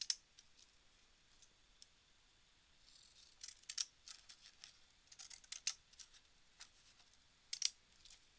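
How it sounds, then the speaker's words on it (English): Scissors cut cardstock down for a handmade birthday card, leaving faint, sparse snips and clicks that grow into small clustered bursts near the end. "So I'm gonna cut this down one"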